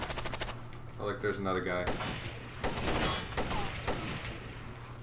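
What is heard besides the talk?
gunfire from the video game Rainbow Six Vegas 2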